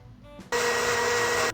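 A blender-style mixer whirs steadily for about a second in a baby care mobile game, a loud broadband whine that cuts on abruptly and stops just as sharply, preceded by brief soft game tones.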